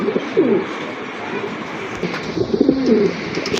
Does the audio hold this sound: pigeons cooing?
yes